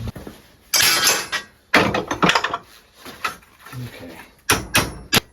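A hammer whacks a bent rust-repair panel on a 1964 Chevrolet C-10 in a series of loud, irregular metallic blows with rattling in between, and a voice speaks briefly.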